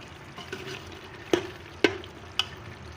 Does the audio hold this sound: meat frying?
yes